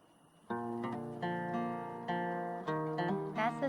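A guitar plays a short sequence of plucked notes and chords, each attack ringing clearly with rich overtones, close and fairly quiet, with a quick flurry of strums near the end.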